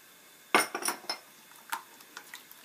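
Eggs being mixed into a starch-based sweet dough in a bowl, a close sequence of sharp clinks and scrapes of utensil against the bowl, irregular and light, no talk.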